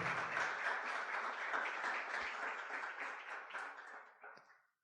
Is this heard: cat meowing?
no